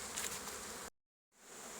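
Honey bees buzz steadily around a beehive that wintered on a mesh bottom board, a close, even drone that drops out to silence for a moment and then returns.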